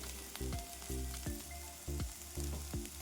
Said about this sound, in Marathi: छान एकदा मी मिक्स करते